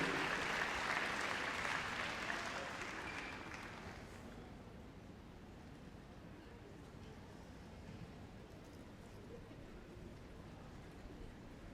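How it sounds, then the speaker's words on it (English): Audience applause for a Pets as Therapy dog team in the Crufts arena, loud and broad at first, then fading after about four seconds into a quieter hall murmur. "Give them a big round of applause."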